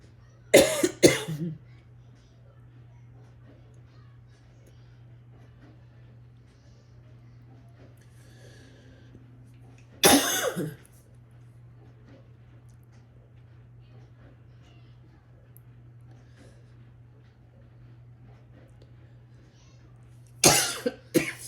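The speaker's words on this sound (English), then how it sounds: "The more I try not to cough, the more I cough." Three separate bursts of coughing spread across a quiet stretch, each a short cluster of harsh coughs, close by, with a low steady hum between.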